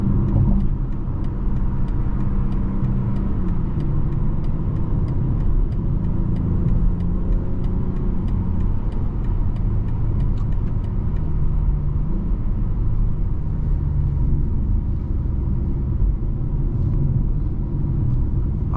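A 2023 BMW X4 M40i SUV rolls off a highway exit, heard from inside as a steady loud road rumble and engine drone with no sharp changes and no talk.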